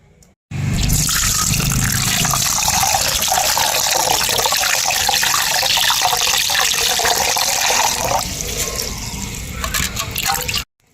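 Water gushes steadily from a tap into a vessel of leftover rice to soak it, a loud continuous rushing pour that lasts several seconds before cutting off.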